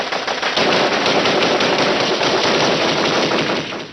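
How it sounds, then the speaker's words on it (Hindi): Sustained machine gun fire with rapid bursts and blasts of hand grenades during a close-quarters firefight with militants inside a building, loud and dense throughout with no pauses. "तभी आतंकियों ने हैंड ग्रेनेड और गोलियां बरसानी शुरू कर दी।"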